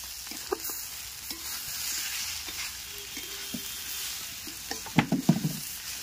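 Katla fish head curry sautéing in a pan, with soft sizzling and occasional scraping stirs of a spatula, a burst of louder stirring clatter near the end; no talking.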